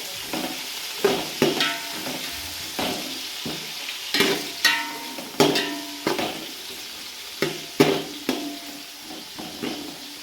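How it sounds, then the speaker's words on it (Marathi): Chopped onions sautéing in a pan for khichdi, a continuous soft sizzle broken by a series of close, regular scraping stirs from a spatula. "चांगला परतून घेऊया"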